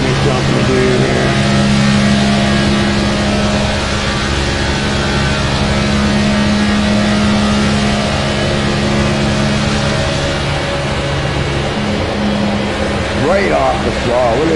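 Race car engine droning steadily around Daytona in NASCAR 25, a loud, sustained roar with little change in pitch as the throttle eases, while someone talks over it.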